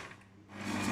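Stand mixer switching on to beat sugar and butter for cookie dough. A whirring motor rises from quiet to a steady, louder hum, heard close and alone.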